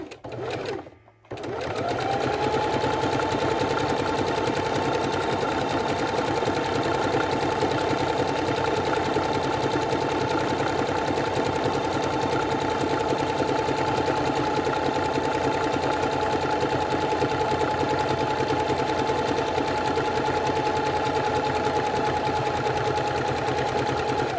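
A sewing machine stitches a quilt in a fast, steady, close-up mechanical whir that starts after a brief pause and continues unbroken to the end.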